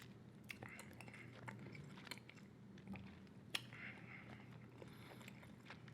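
Bubble gum chewed close to the mic, with soft repeated wet smacks and clicks throughout, steady and intimate over a faint background hum.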